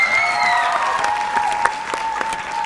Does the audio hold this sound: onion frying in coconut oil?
no